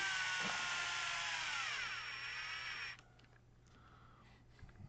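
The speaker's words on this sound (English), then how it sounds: "don't get carried away with the power wrench, which is pretty easy to do" A power wrench whirs steadily for about three seconds while driving a screw into an RC truck, then stops, leaving faint handling noise.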